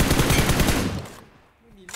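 Rapid automatic gunfire in PUBG Mobile, a dense burst of close, loud shots for about a second that then cuts off, leaving quiet with a faint sound near the end.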